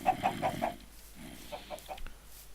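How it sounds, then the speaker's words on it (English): A Minecraft chicken clucks in two quick clusters of short, evenly spaced bursts, with a low quiet game background beneath, fairly faint overall. "I'm going to kill this chicken because it's noisy and will give me food"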